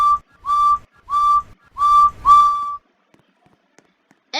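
A toy train engine's whistle sounds in five clear, steady toots in quick succession, each bright and sustained, with a brief faint sound at the very end.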